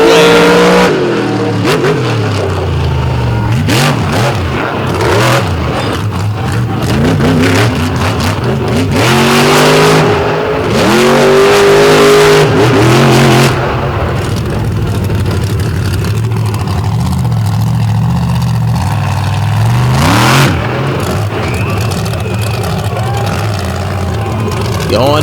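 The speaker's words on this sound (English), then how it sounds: "Zimmer absolutely burning up the rubber here on the infield of the famed tarmac of the Lake Erie Speedway." Monster truck at the Lake Erie Speedway infield during a night monster truck event, engine loudly revving and roaring continuously with bursts of acceleration, under an announcer's commentary.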